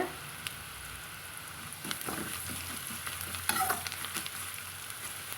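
Onions sautéing in a pan for a lemon idli dish made from leftover idli, with a soft, close, crackling sizzle broken by scattered spatula stirs and scrapes, and no speech.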